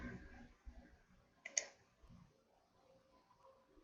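A single sharp computer mouse click on an on-screen OK button, faint and brief against quiet room noise.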